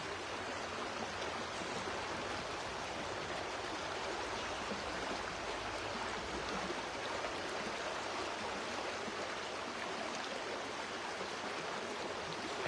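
A river flowing in a steady, broad rush of water, an even hiss and murmur that stays constant throughout at moderate-low level, with no voices or other sounds.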